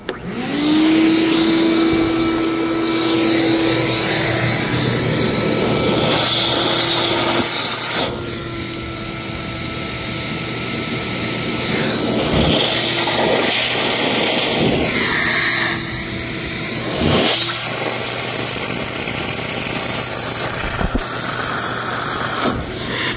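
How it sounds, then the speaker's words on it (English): A shop vacuum hose clamped over an air conditioner's condensation drain pipe pulls out clogged gunk with a loud, steady roaring whoosh, its pitch shifting and briefly sputtering as the seal around the pipe changes. "we're going to take this hose, we're going to put it over the top and just squeeze it around the actual pipe like that and suck out all the nasty stuff"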